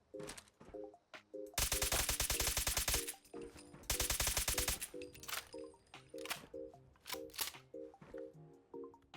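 Suppressed full-auto fire from a modded combat rifle in Fallout 4: two dense rapid bursts of muffled shots, separated by scattered single clicks and mechanical clacks.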